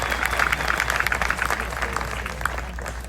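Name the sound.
audience applause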